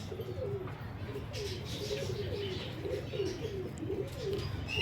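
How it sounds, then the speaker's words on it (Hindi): Breeder pigeon cooing steadily, a repeated rolling coo heard close up over a low background hum. "ये ब्रीडर कबूतर है।"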